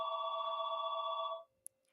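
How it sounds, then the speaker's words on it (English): A phone rings in the background with a steady electronic tone that holds for over a second and then stops, followed by a faint click, fairly quiet with no talking. "if you hear my phone in the background, just ignore it"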